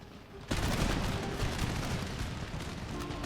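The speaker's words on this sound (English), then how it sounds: "Yeah, they're all firing at will right now." Dense, continuous roar of massed musket volleys and cannon fire in a line battle from Empire: Total War, erupting suddenly after a quieter moment and sustained as a loud crackling fusillade.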